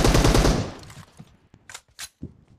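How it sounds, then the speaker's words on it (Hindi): PUBG Mobile gunfire comes as a loud sustained burst of rapid automatic shots that fades away, followed by a few scattered single shots and short bursts. "कवर फायर देते हुए आ गया तो"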